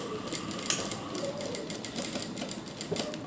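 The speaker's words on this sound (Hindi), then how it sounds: "बंद पार्ट की तरफ से हम सिलाई लगाते हुए" A sewing machine stitches a cuff sleeve with piping, a fast steady mechanical clatter of needle strokes heard up close and continuously, without speech.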